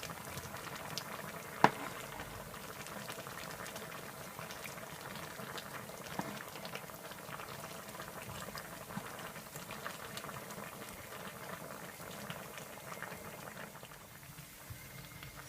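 Jamaican stew peas with pigtail simmer in a pot, giving a faint, steady bubbling and soft liquid popping, with one brief clink near the start.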